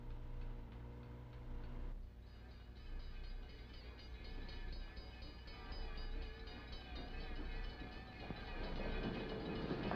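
An approaching train gives a steady low rumble with rhythmic clicking of wheels on the rails, building gradually louder toward the end over a constant mechanical drone.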